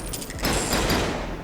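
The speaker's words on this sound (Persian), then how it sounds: "دشمن سریع اسلحه‌اش برمیداره و به سمت من شروع میکنه به شلیک کردن" Enemy gunfire in a shooter game built with Game Creator: a dense, rapid crackle of shots that swells midway and keeps going steadily to the end, with no talking.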